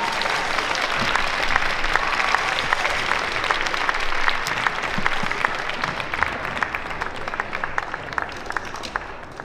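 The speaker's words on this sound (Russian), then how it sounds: "Громкие аплодисменты" A ballroom dance festival audience in Minsk breaks into loud, sustained applause, dense clapping with sharp individual claps standing out, filling the hall evenly from start to finish.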